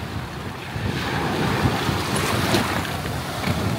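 Waves washing ashore at Dead Horse Bay, stirred up by passing ships, make a steady, fairly loud rushing surge blended with gusty wind noise, with no voices.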